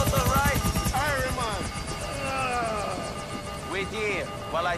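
A helicopter in the video game GTA IV comes in to land, its steady rotor drone running throughout beneath continuous talking.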